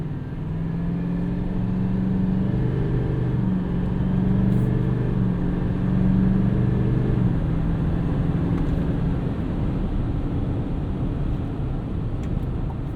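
A heavy 2024 Chevrolet Silverado 2500HD High Country pickup accelerates up a highway on-ramp, its engine a steady, loud rumble with rising drone tones as it builds speed, heard from inside the cab with no talking.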